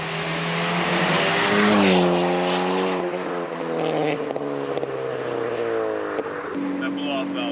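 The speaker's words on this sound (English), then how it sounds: "That blow-off valve sounds sweet." A big-turbo Ford Focus ST with an HKS blow-off valve, loud from inside the car, with the engine revving up and down under excited talk and a sharp whoosh of the valve venting.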